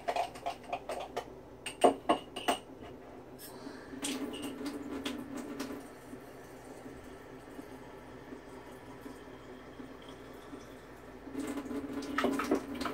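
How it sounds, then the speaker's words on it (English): Water pours into a container of coffee grounds while cold brew is being made, a steady running, splashing flow that swells near the end, with a few clunks and knocks at the start and no talking. "I want to make sure I get as much water in there as possible."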